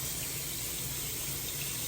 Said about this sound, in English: I will stop running the water as soon as this mask is down the drain and off my hands